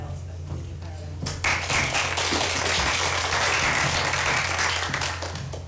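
After a brief quiet moment, a school prize-giving ceremony audience breaks into a full round of applause that swells quickly and holds steady before easing slightly at the end.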